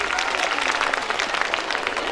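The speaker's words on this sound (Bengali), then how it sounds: "জোরে করতালি হবে।" Applause at a school reunion ceremony, a dense crowd clapping steadily and loudly throughout, with a voice faintly heard underneath.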